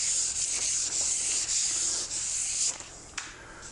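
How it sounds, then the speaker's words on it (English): Wooden puzzle blanks are sanded up to 320 grit, giving a steady close scratchy rasp in repeated strokes that thins out and ends with a couple of brief scuffs. "finish sanding up these other blanks to the 320"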